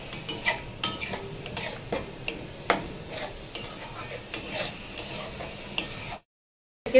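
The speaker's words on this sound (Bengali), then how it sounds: "দিয়ে ভালো করে মশলাটা কষিয়ে নেব আরেকবার।" A spatula scrapes and clinks against a pan while spice paste fries for prawn-stuffed potol dolma, with a steady soft sizzle under repeated stirring knocks until it cuts to silence near the end.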